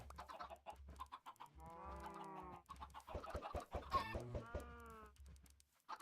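Chickens cluck in the video game Minecraft, with several short clucks and squawks in a row, some drawn out, fairly faint against a quiet backdrop.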